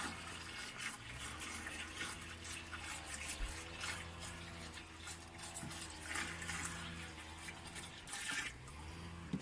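Water pours from a large bottle onto plant roots in an allotment garden, a steady, gurgling stream, slightly fluctuating in strength, close and fairly loud, with no voices.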